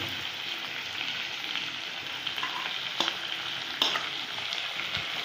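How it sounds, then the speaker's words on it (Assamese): Ginger and garlic paste frying in a pan with green chillies, a steady sizzle broken by a few sharp spatula scrapes and clinks, close and fairly quiet. "আদা নহৰু পেষ্ট এয়া ভাজিম।"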